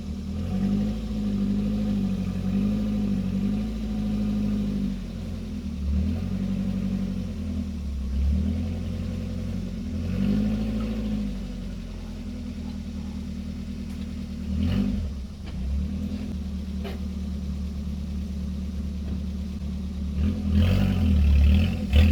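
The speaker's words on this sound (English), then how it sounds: "stick the truck in 4 low and pull it up on some ramps" A truck engine in four-low crawls up onto ramps, a loud, low idling drone that surges in several slow revving swells and then settles, with some clatter and a final rise in throttle at the end.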